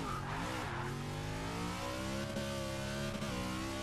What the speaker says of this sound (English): let me try to get a really good wheelie into a quarter mile